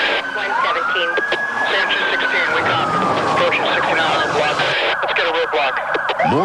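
A police car siren wails and sweeps up and down in a radio advert, loud and close, over a busy background of engine noise and garbled voices.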